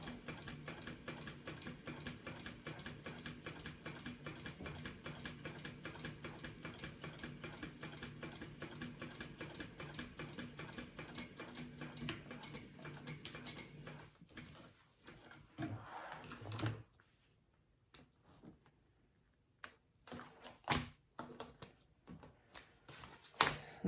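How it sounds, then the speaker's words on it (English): A sewing machine stitches a second row along a crossbody bag flap, a rapid, even mechanical whir with fast regular needle ticks for about fifteen seconds, then stopping, followed by scattered clicks and handling noises, fairly faint. "Okay, so now I'm sewing that second row along my flap"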